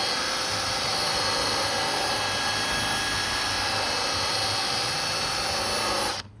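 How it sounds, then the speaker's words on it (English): A drill spinning a buffing wheel to polish a cloudy headlight whines steadily at close range, loud and continuous, then stops abruptly near the end. "Now I'm using this buffing wheel because it allows me to get into the crevices"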